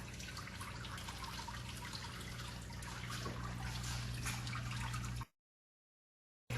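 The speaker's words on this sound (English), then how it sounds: "Listen to the water." Water trickling in a large reptile enclosure under construction, a continuous close dribbling and splashing with a low steady hum beneath, cutting off abruptly near the end.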